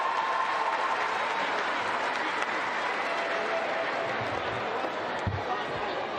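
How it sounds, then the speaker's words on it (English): A home crowd at a CEV Champions League volleyball match between VakifBank Istanbul and ŁKS Commercecon Łódź roars and applauds after a set win, a loud, sustained wash of cheering and clapping. "they're hearing it from this home crowd"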